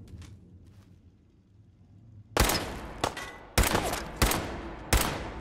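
Gunfire in Fallout 4 breaks a quiet stretch with five loud, close shots or short bursts at irregular intervals, each a sharp crack with a ringing echo.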